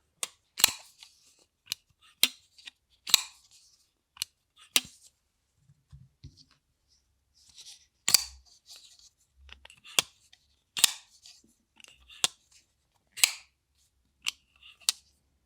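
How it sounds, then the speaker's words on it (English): A Kizer Militaw folding knife blade snaps open and shut again and again, sharp metallic clicks at an uneven pace, close and crisp against silence. "This knife with the stronger detent, having a deeper thrum humdrum note to it"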